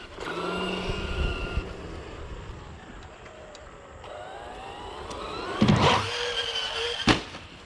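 A Traxxas Hoss RC truck with its electric motor whining up and down as it flips, with a couple of sharp knocks from landings and light background noise.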